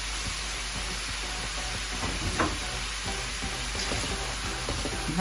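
Chopped fresh mint and parsley sauté in a hot pan for a celery stew, giving a dense, even sizzle with soft stirring scrapes throughout, close and fairly loud.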